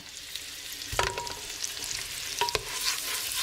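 Chopped onion hitting hot oil in a pan for a detox soup, giving a steady high sizzle with a few sharp clatters and stirring knocks near the start and again midway, close and fairly loud.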